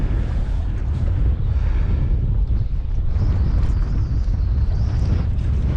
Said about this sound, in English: this wind is hectic